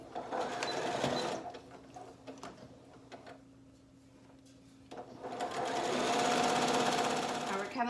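A sewing machine stitches a dog snood in fast, steady bursts, pauses briefly, then runs again at a whirring pace, while a person talks throughout.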